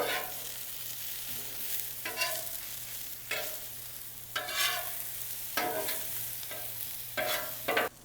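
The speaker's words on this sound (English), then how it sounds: "We're going to let this cook for just a minute or 2 until the onions become translucent" Onions and garlic frying on a LoCo griddle for kimchi fried rice, a steady close sizzle with several bursts of spatula stirring and scraping across the surface.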